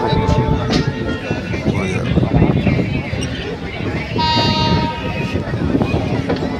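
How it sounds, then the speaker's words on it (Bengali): Trains passing on the Howrah–Nabadwip–Katwa line at a crowded station give a steady rumble and clatter with tonal whistle-like notes. The sound is loud and continuous under constant crowd chatter and talk. "কত ট্রেন যাচ্ছে চলছে প্রচুর পরিমাণে হালকা হালকা আওয়াজ আসছে"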